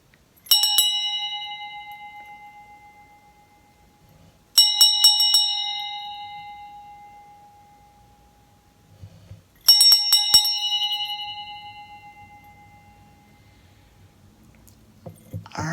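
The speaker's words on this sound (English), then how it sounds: "I am going to clear the energy before we start the reading, so you'll hear 3 bells." Three clear bell rings, each struck sharply and left to ring out and fade, spaced about five seconds apart in a quiet room.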